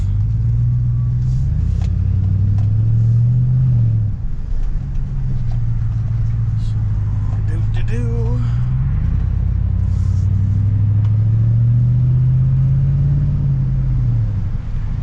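A car engine fitted with a new Black Widow exhaust idles with a deep, loud exhaust rumble, rising in pitch twice as it revs and settling back down; a brief voice is heard.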